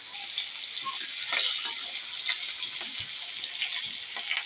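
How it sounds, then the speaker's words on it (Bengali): Dried fish (shutki) frying in a pan for a potato curry, with a continuous close sizzle broken by light taps and scrapes of stirring. "ভাজা করে নিই আগে।"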